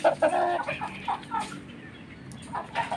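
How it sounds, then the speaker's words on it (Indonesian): A Bangkok fighting chicken of the widu nanas breed clucks in short, moderately loud bursts, several calls spaced across a few seconds with light background noise. "Ayam widu nanas."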